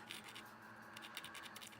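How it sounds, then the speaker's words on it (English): X-Acto knife, freshly sharpened, lightly scraping the surface of watercolour paper to lift highlights, a close, quiet, continuous rasping scratch with small gritty bursts and no talking. "So we're going to scrape here. We just take the X-Acto knife, which I've just sharpened"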